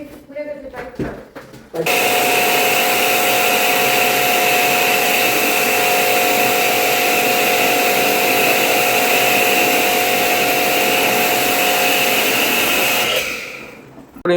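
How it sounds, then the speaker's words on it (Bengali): A jet pump sprays water at high pressure to service a Samsung WindFree air conditioner, a loud steady hissing roar lasting about eleven seconds after a few brief clatters, then cutting out. "এবার জেট পাম্প করে কিন্তু এই এসিটাকে সার্ভিস করা হচ্ছে"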